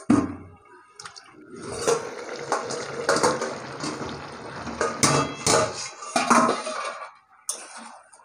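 Clanking pots and pans with a metal lid being set down on a cooking pot of boiled potatoes and aubergine for a Bengali fish curry, a run of near, sharp clinks and knocks over a soft steady background.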